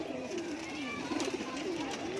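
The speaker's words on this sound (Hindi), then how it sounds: "काफ़ी खुरुश पे है कबूतर इस वक्त" A male pigeon of the pahalvan breed coos in a soft, rolling, wavering call that rises and falls continuously, heard at moderate distance over a faint background.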